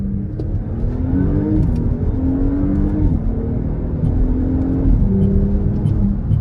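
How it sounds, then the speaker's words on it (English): A 2025 Audi S5 accelerates briskly in traffic, its engine note rising through several gear changes with steady road and tire noise from inside the cabin. "Pretty brisk acceleration."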